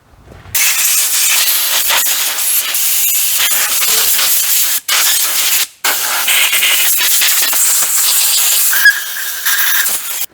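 Compressed air hose blasting a 1940 Chevy coupe to keep it from rusting, a loud close hiss in long sustained bursts with two brief cutoffs midway, no talking.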